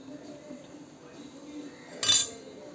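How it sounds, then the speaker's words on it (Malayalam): A metal spoon clinks once against a plate as chilli fish curry and gravy are served over tapioca, a single short bright chime over faint room hiss. "ഇതിലേക്ക് ഇങ്ങനെ പുറത്തോട്ട് ഒഴിച്ച് ഇച്ചിരി ചാറൂടെ നമുക്ക് ഒഴിച്ചു കൊടുക്കാം"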